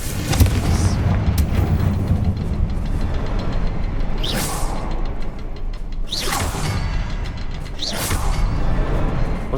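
Confringo fire spell blasts in the Hogwarts Legacy video game, heard as a loud rumbling booming bed with three sharp swooshing bursts spaced about two seconds apart.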